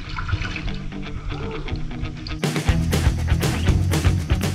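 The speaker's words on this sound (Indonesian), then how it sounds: "Ini pun ada tetesan airnya nih" Water drips and trickles inside Goa Balojaha, a limestone cave hung with pointed stalactites, sounding close and echoing, with the sound growing busier and brighter partway through.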